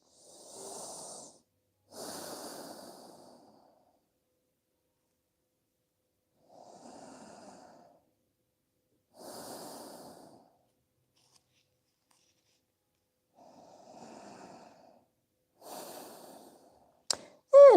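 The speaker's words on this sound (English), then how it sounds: "Inhale and exhale through your nose." Slow nasal breathing during a relaxation stretch, with soft airy inhales and exhales repeating in about six separate breaths spaced by quiet pauses, close and faint, followed by a brief sharp click at the end.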